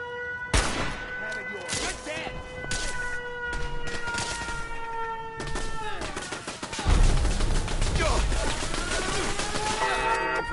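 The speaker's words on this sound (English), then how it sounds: "they're shooting out some of our turrets" Rapid gunfire bursts from turrets in the video game Fallout 4 crack out in loud volleys alongside a wailing siren tone, with a heavy rumbling blast partway through.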